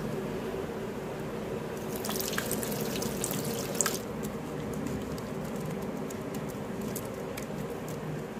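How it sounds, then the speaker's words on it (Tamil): Tap water runs continuously into a sink while hands are washed beneath it, a steady close splashing hiss with light irregular patter and drips over the flow. "வேர்ல்டு ஹெல்த் ஆர்கனைசேஷன் முறைப்படி எப்படி ஹேண்ட் வாஷ் பண்ணுறதுன்றதை உங்களுக்கு செஞ்சு காமிக்கிறாங்க"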